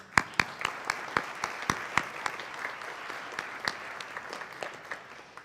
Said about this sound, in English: Let's get a huge round of applause for all of you people.